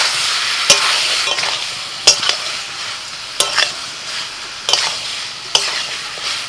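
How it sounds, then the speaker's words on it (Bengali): Steady sizzling of mixed vegetables with fried soybean chunks and lentils frying in a pan, broken by several sharp scraping clinks of a spatula stirring at irregular intervals, close by. "আবারও সব কিছু আমি মিনিট দিয়ে কষিয়ে নেব"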